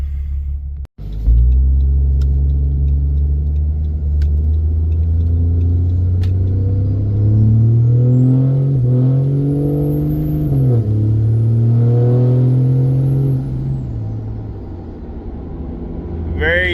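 A diesel truck engine fitted with a Spelab intake horn and with its grid heater deleted drives along the road, a loud steady rumble that rises and falls through gear changes, with a sharp knock near the start.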